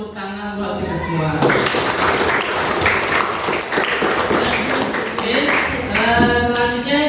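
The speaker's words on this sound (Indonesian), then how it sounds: "Tepuk tangan buat kita semua." Loud, dense applause from a class of students fills the middle of the clip, with voices speaking before and after the clapping.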